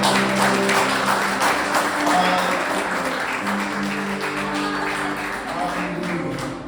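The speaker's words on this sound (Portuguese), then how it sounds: "Você pode aplaudir" A church congregation applauds at the close of a prayer in a Portuguese-language service, a dense, steady wash of clapping that runs the whole stretch with voices and a sustained tonal hum mixed underneath.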